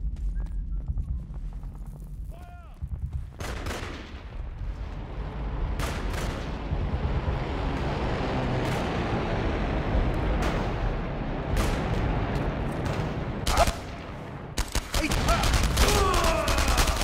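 Grenade blasts and bursts of gunfire in the war shooter Enemy Front, a dense, continuous battle din with sharp loud cracks and booms scattered throughout, heavier toward the end.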